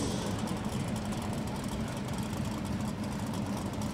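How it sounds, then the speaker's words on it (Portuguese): A drag racing car with a Chevrolet 400 engine rumbling steadily at a drag strip, a loud, dense low engine roar that holds constant for a few seconds with no pauses. "Agora nós teremos o Giuliano Pacheco Pardini com o seu drag. Motor Chevrolet 400"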